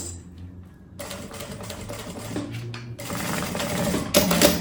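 A sewing machine stitches a quilted puffer tote bag lining, starting after a quiet moment with a steady rapid mechanical patter that continues close and fairly loud, growing slightly stronger toward the end.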